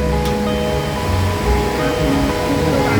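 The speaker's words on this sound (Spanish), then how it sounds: "El primer río que estamos recorriendo en Colombia" River water rushing steadily under a bridge in Colombia, a loud, continuous broadband wash close by with no pauses, filling the whole stretch alone.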